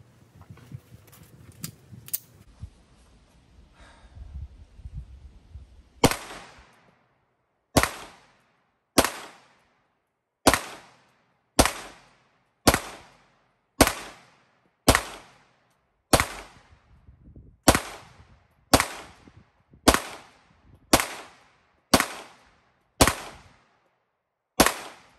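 A Glock 17 pistol fires at a bullseye target from the 15-yard line on a shooting range, about seventeen loud, sharp shots at a steady, evenly spaced pace after some quieter handling noise.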